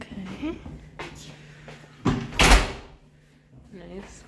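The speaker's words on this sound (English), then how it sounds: "Open the door for Cameron." A hotel room door opens with a clunk and a sharp rushing thud, close by, while people talk quietly before and after.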